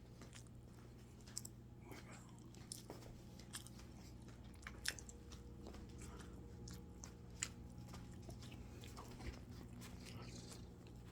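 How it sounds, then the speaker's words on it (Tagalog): Soft bites and chewing on bread close to the microphone, a string of small crunchy clicks and mouth noises over a low steady hum, quiet throughout. "Ayan, kagat ng tinapay."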